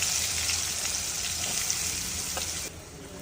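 Onions with a pinch of turmeric and dried red chillies frying in a hot pan, a steady close sizzle throughout that drops suddenly near the end.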